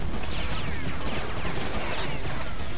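Serious Sam 3: BFE gunfire: loud, continuous rapid automatic shooting with overlapping impacts, dense and unbroken throughout the short burst.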